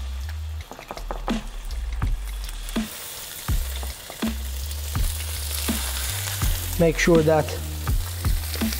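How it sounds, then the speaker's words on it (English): Rabbit pieces sear in hot oil in a pan, a steady loud frying sizzle with crackles and occasional clatter, under brief talk. "Now that our oil is pretty much ready, we will start searing our rabbit."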